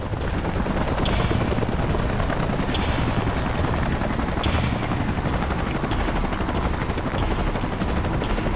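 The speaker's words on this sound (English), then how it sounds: "Let's call in the salvage choppers and get it out of here." Salvage helicopters arrive in the video game Xenoblade Chronicles X, a steady, loud rotor beat and engine roar holding throughout with no pauses.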